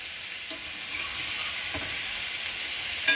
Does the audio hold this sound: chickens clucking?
no